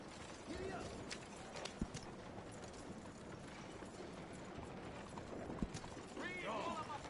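In Red Dead Redemption II, horse hooves clip-clop at a steady pace under faint game ambience, with occasional creaks and a voice speaking.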